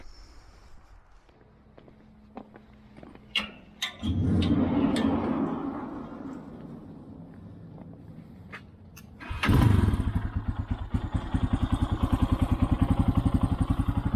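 A Lifan KPX 250 motorcycle engine starts with a clattering crank, settles into a loud close idle, then revs sharply and keeps up a rapid, pulsing throb near the end.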